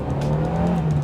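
A BMW E21 316 with a carbureted 1.6-liter, 90-horsepower engine accelerates in a brief, steady engine drone, heard from close by with no talking over it.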